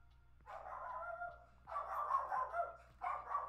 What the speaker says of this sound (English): And my dog's barking, that's perfect.